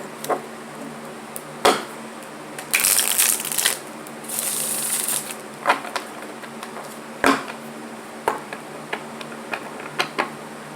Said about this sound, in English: He wants me to shuffle one more time.